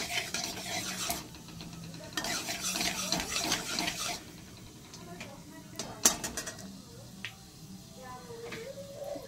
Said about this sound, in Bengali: পাঁচ ফোড়ন দিচ্ছি, আর এটা ভালো করে